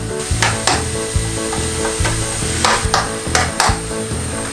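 Onion cooking down in a pan over high heat for a chicken mayo rice bowl, a steady sizzle broken by repeated knocking and scraping of a utensil against the pan, close and fairly loud, with no talk.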